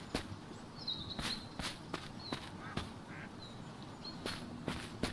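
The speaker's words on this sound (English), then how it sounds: "There's another chicken." A chicken in the survival video game INCUR Survival gives faint, short clucking calls over a steady series of crisp footsteps walking along.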